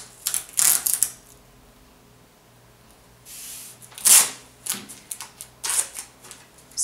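Scissors snip through a taped pile of yarn strands while making pom-poms, giving short, crisp cutting bursts in irregular clusters with quiet pauses between them, close and fairly soft.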